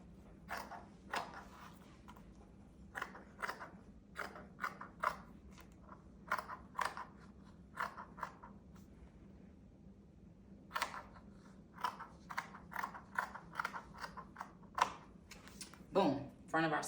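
Scissors cutting the selvage off fabric for a mermaid prom gown, giving a run of crisp, close snips in quick bursts with brief pauses between, over a low steady hum.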